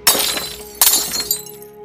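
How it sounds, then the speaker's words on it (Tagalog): Glasses crash and shatter loudly in two quick impacts, followed by tinkling shards scattering and settling on a hard floor. "may biglang bumagsak na tray ng baso sa kusina"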